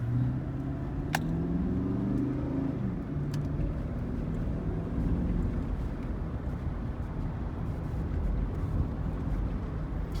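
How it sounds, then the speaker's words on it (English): A steady V8 engine drone and road rumble fill the cabin of a third-generation GMC Yukon SUV, continuous and fairly loud, with a low hum rising slightly as it accelerates. "You know you're driving a V8, but it's not loud."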